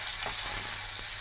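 Dried red chillies and a garlic clove sizzle in hot oil in a pan, a continuous bright crackling hiss at close range with no talking.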